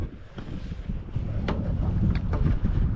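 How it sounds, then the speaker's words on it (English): Wind gusting on a fishing boat out on the water during early-season crappie fishing: a steady, rough rumble buffeting the microphone, growing slightly stronger, with faint splashing underneath and no voices. "the wind's blowing me pretty bad"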